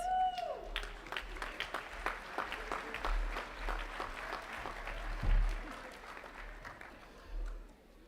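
Steady audience applause fills an 8th grade moving-up ceremony, dense overlapping claps swelling and easing over several seconds with a brief louder burst near the end.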